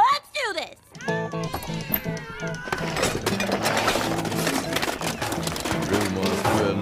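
Animated cats meow and yowl in a family cartoon scene, several rising calls at the start giving way to dense, loud music and effects with voices mixed in.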